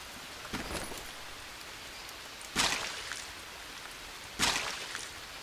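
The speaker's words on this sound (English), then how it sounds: "Is it filling up with the rain?" Steady rain falls in the survival video game Green Hell, a continuous soft hiss broken by a few louder splashing gusts.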